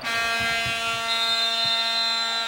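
A steady electronic buzzer sounds at the end of the first quarter of a 2006 IHSA girls Class A third-place high school basketball game, one loud continuous horn lasting the whole stretch over faint gym crowd noise.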